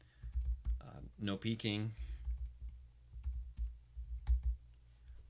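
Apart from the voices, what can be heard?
typing on a computer keyboard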